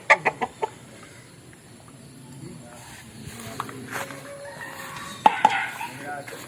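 Backyard hens cluck close by, with a quick run of about four sharp clucks at the start, then softer scattered calls and a voice in the background.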